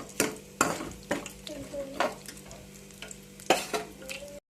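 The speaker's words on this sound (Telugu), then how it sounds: "ఇలా తిప్పుకొని ఫ్రై కావాలండి ఫ్రై చేసుకోవాలి కొంచెం అంత లైట్గా ఇలా ఫ్రై చేసుకోవాలి" Meal maker soya chunks stirred and fried in a pan, with repeated scraping strokes of a spatula over a soft steady sizzle, close and fairly loud, spaced irregularly about every second.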